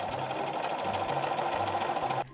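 A sewing machine stitches a sleeve cuff seam in a steady, rapid mechanical rhythm, running close and loud, then stops abruptly at the end.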